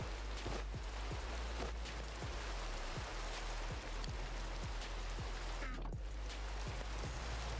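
Steady rain falls in a Minecraft world, a continuous hiss of drops with faint low rumbles, quiet and even from start to finish, with no voices.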